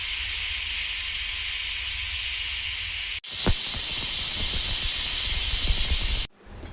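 Pressure cooker hissing out steam while soybean biryani cooks inside, a loud, steady, close hiss that cuts off briefly partway through, resumes, then stops near the end.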